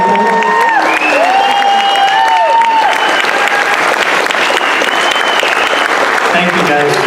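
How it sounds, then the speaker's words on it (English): A crowd applauding a newly announced youth board at an event, with dense, steady clapping throughout and some cheering and voices mixed in. "How about a round of applause for these incredible young people?"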